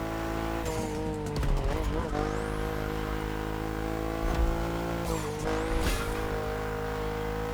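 A tuned car engine drones steadily with rising and falling revs and brief tire squeals in the racing game The Crew Motorfest, fairly quiet throughout.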